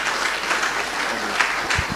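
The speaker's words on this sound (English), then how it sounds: "Please, a round of applause for yourselves." Applause from the audience at a student induction ceremony, a steady wash of many hands clapping at moderate loudness throughout the short stretch, with no one speaking over it.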